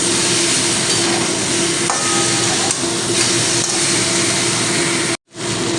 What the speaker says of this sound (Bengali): এইবারে আমি ভেজে রাখা পটলটা দিলাম দিয়ে একই সঙ্গে কষিয়ে নেব দু থেকে চার মিনিটের মতন